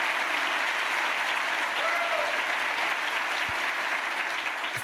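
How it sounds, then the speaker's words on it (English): Steady audience applause at a city State of the City address, honoring members of the snow team, forms a dense, even wash of clapping that holds throughout without a break. "Let's have a round of applause for all of them."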